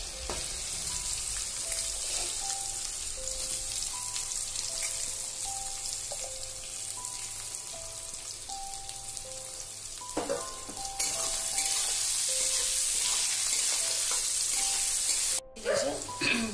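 Onions fry in a kadai for chilli chicken with a steady, close sizzle and occasional stirring clatter, the hiss growing louder later and cutting out briefly near the end.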